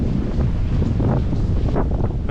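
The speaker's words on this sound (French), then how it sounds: "Je sens la différence en termes de vent." Strong wind in a snowstorm in Quebec, a steady, loud roar that buffets the microphone continuously and close up, with no voices over it.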